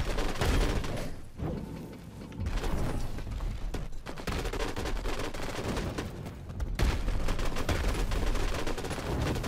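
Gunfire in the video game Allmighty Kill Your Gods, a dense, continuous barrage of rapid shots and blasts that stays loud throughout with only brief dips.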